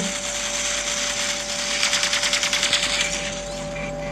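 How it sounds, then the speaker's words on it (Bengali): Rapid machine-gun-style firing from a mech in the video game Mech Arena, a quick even run of close, sharp mechanical bursts over a steady hum and game background, with no talking. "যখন কোনো কাছে কোনো এনিমি থাকবে তখন এইভাবে তুমি মেশিন গানের মতো মারতে পারবা"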